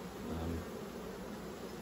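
A dense, steady buzz of many honeybees close by around a queenless hive, continuous and fairly soft, with no voices.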